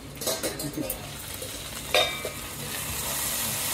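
Okra being stirred and fried in a pan, a steady close sizzle with scraping spoon strokes against the pan and a sharper clink partway through.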